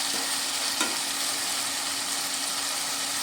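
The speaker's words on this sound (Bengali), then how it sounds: "আবারও আমি হালকা হাতে খুব ভালো করে নেড়ে নিলাম।" Rui fish belly curry with tomato and onion stirred in a pan, a steady close sizzle and frying hiss with a faint scrape of the spoon, no voices.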